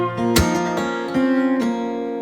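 Acoustic guitar fingerpicking, with a pull-off to the open third string: a few plucked notes ring out clearly, close and sustained, with no voice.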